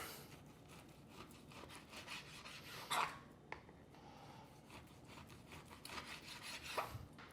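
Knife slicing steak across the grain on a board, repeated soft rasping cuts in an even rhythm, close and quiet, with a couple of light knocks.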